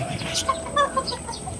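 Chickens clucking outdoors, a few soft short clucks against steady background noise, fairly quiet and brief.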